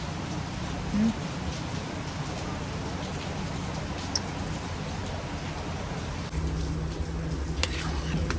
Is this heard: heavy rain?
yes